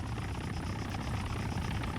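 A military helicopter in ARMA 3 flies with a steady, loud, dense rotor thrum and engine roar that holds constant throughout, with no voices over it.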